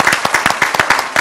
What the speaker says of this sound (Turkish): Bir kocaman alkış istiyoruz evet